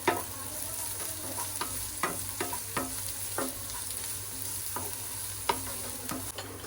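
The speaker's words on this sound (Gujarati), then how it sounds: "હવે આપણે એમાં કાંદા એડ કરવાના છે. ગોલ્ડન બ્રાઉન થાય ત્યાં સુધી કાંદાને ચડવા દેવાના છે." Chopped onions frying in hot oil for a pyaz kachori filling, a steady sizzle broken by repeated sharp scrapes and clacks of a spoon stirring the pan.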